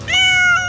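A rescued stray cat caught in a trap in Venezuela gives a single drawn-out meow, loud and close, lasting under a second with no other sound around it.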